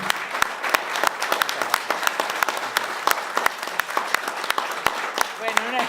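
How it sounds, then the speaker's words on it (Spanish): Audience applauding in farewell to an ambassador after a conference, a steady wash of clapping with sharp individual claps standing out, sustained for several seconds, with faint voices underneath. "lo despedimos con este fuerte aplauso."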